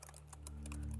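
Keystrokes on a computer keyboard, a quick run of light clicks over a steady low hum, close and moderately loud, with no talk.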